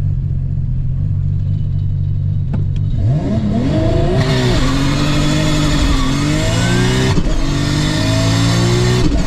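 A Nissan R32 GTR with a sequential transmission held on the rev limiter for a launch, then tearing away and climbing through rapid upshifts, a loud, close, continuous engine roar with no one speaking.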